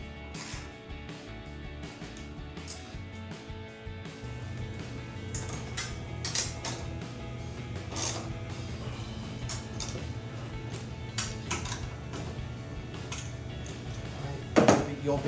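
Nuts are tightened on a front strut tower brace for a 2015-2023 V8 HEMI Dodge Charger, with a ratchet clicking in bursts and occasional metallic clanks under steady talk.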